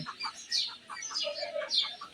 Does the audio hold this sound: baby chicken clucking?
yes